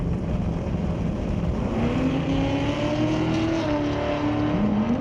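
Two drag race cars, both powered by 6-liter LS V8 engines, rev hard side by side at a drag strip, including a 1991 Mustang Notchback, with rising engine pitch as they launch, loud and continuous throughout.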